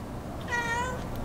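A cat gives a single drawn-out meow, fairly close and clear, over a low steady background hum.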